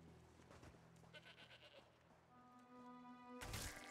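Goats bleat in Elder Scrolls Online, High Isle, with a few short calls across the first half and a louder burst near the end over steady game ambience.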